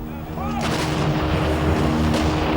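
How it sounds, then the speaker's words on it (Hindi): Bofors 155 mm howitzer artillery gun firing: a single heavy boom erupts about half a second in and rolls into a sustained, loud rumbling blast that fills the rest of the short stretch. "155 mm हाउविट्जर तोप।"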